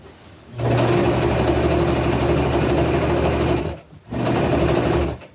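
A sewing machine stitches fabric for an upcycled princess dress, running in a loud, steady whir for about three seconds, pausing briefly, then running again in a shorter burst.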